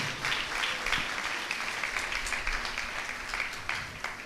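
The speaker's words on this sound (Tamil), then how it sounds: "நல்லா தான் கை தட்டலாமே." A church congregation claps together at a Sunday Tamil service, a dense, steady patter of many hands filling the room without pause, fairly loud and even.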